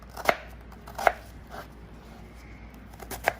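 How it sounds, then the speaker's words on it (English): A knife chops an onion on a cutting board for kababs, with sharp, isolated strokes spaced about a second apart, close and crisp against a quiet kitchen. "The best way to chop it like this, and then just go like this across."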